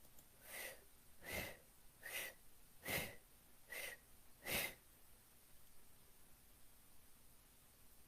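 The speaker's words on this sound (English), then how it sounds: "Beginning the blow breath now." Six forceful breaths blown in and out through the mouth during a guided blow-breath session, each a sharp airy rush evenly spaced about a second apart, close and fairly soft, then quiet room tone.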